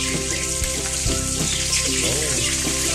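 Shrimp hit a hot frying pan and set off a loud, steady sizzle, with a few low thumps and stirring clatters heard up close.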